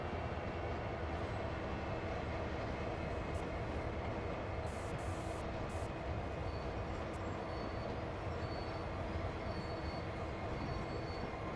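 Steady, continuous rumble of a heavy CSX freight train in a video game, Train Sim World, rolling along with a faint metallic squeal on top, loud and unbroken throughout.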